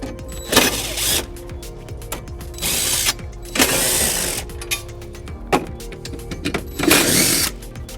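A hand ratchet works on the 13 mm screws holding the battery housing of a 2010 Volvo XC90, giving repeated close clicking bursts separated by short pauses, with no talking.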